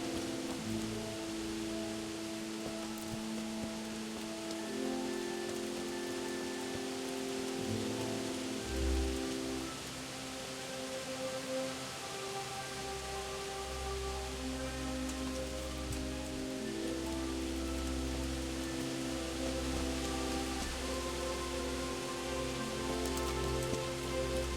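Steady rain falls in the medieval game Kingdom Come: Deliverance, a soft continuous patter on surfaces, quiet and even throughout, with low musical tones humming underneath.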